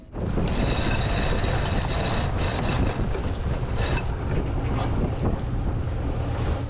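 Wind roars steadily across the microphone while sailing off the Yucatan coast, a loud, continuous rush with faint water and boat noise underneath.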